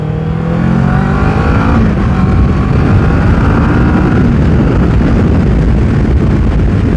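A motorcycle rips along close by, its engine roaring loud and continuous, blended with heavy wind rush for the whole stretch with no speech.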